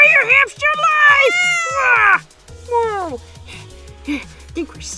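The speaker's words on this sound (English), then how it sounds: "Whoa, it's a cat, cat, cat, cat." Cartoon cat meowing in the Roblox Hamster Simulator game, several loud, drawn-out meows with rising and falling pitch, followed by lower game sounds and a child's excited gasps.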